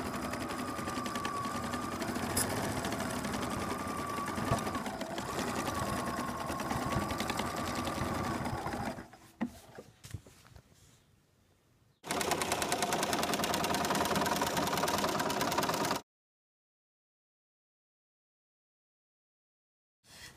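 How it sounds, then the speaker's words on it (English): Sewing machine running steadily as zigzag or S stitches sew every seam of a quilt, joining the backing to the top; a continuous close mechanical whir that pauses, drops to quiet handling, then resumes briefly before stopping. "So now that you have sewn the backing to the top of the quilt using the S or zigzag stitch"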